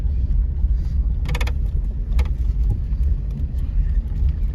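A 1996 Oldsmobile Cutlass Ciera drives slowly around a church parking lot. A low engine rumble and road noise hold steady throughout, with a couple of brief creaks and rattles from the dated suspension.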